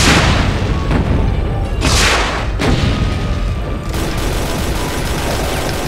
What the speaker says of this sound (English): Let's do rockets actually.